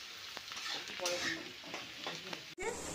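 Onions frying in a pan for a dark, slow-cooked mutton curry, a steady close sizzle with stirring scrapes and clinks, broken by a brief dropout near the end.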